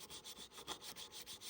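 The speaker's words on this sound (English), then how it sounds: "And I sand in all directions, getting everything evenly." Sandpaper rubs back and forth over a metal fountain pen nib, worked from the underside in all directions, giving a steady run of soft, close scratchy strokes at an even rhythm with no talking.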